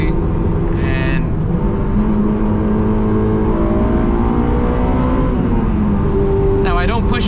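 A stock Honda S2000 driven hard through canyon roads, its engine a loud, continuous in-cabin drone with rising and falling revs throughout, and brief higher whines near the start and end.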